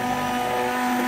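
A blender whirs steadily while blending mayonnaise made with pink Himalayan salt, a loud, even, high-pitched motor whine throughout the short stretch with no talking.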